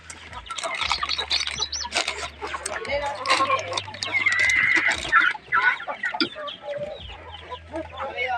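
Chickens being fed cluck and chatter busily nearby, many overlapping calls with low background rumble, while a person talks among them.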